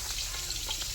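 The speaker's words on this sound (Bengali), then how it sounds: "এগুলো তেলত চড়াইছে" Bata fish frying in hot cooking oil give off a steady, close, even sizzling hiss, with no voices.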